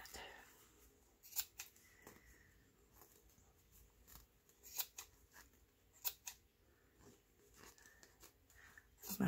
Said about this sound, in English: So I think I will just cut this piece away.